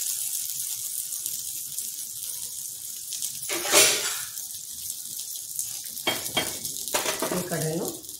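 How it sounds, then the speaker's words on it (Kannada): Flatbread fries in oil in a pan with a soft steady sizzle, and a few clinks and scrapes of a utensil against the pan come close and clear. "ಈ ಕಡೆನೂ ಎಣ್ಣೆ ಹಾಕಿ ಸುಡಬಹುದು"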